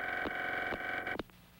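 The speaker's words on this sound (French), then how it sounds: "La ligne s'est raccrochée" Telephone line tones after a call is hung up, a steady electronic hum broken by several short clicks and a final sharp click, fairly faint with no speech.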